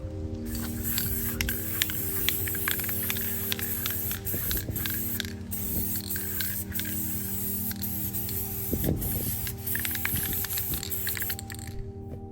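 A spray paint can hisses steadily with the nozzle held partway down, giving a sputtering, spattering spray that runs close and loud with small irregular pops, alone without talk.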